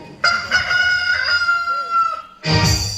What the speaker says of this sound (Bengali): মোরগের আওয়াজ কি তোমার কানে যাচ্ছে না